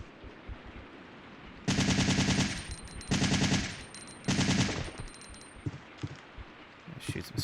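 Three loud bursts of rapid gunfire in Resident Evil 3, each lasting about a second and separated by short pauses, shooting at spiders, with faint game ambience and small metallic clinks between the bursts.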